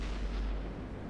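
A tank cannon fires in the World of Tanks game, a single deep, muffled boom with a rumbling low-end tail, moderately loud and heard on its own.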